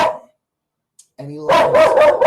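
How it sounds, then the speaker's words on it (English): A studio dog barking excitedly nearby, a whine-like bark that breaks into a rapid string of loud barks, with a voice cut off at the start. "The studio dog goes nuts."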